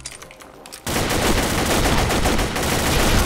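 Continuous automatic gunfire from an M4 rifle in the online shooter Combat Arms, loud and dense after a quiet start, with no talk.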